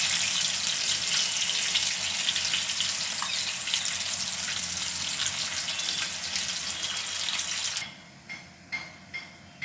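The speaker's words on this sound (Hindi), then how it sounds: "फिर इनको गरम कढ़ाई में डालकर धीमी आंच पर फ्राई करेंगे" Cheese pakoda fry over a low flame in a hot kadhai with a loud, steady hiss of sizzling oil. The sizzle suddenly drops away near the end, leaving a few faint clinks.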